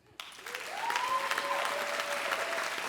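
A comedy-club audience bursts into sustained applause that starts abruptly and holds steady at full strength, a dense wash of clapping hands with a few scattered cheers.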